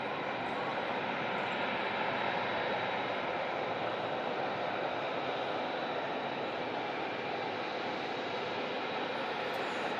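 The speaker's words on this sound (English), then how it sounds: "the Emirates A380 taxis towards us at the runway visitor park" An Emirates A380 taxis at Manchester Airport near the runway visitor park, a steady broad engine roar and whine that holds evenly throughout at moderate distance, with faint voices in the background.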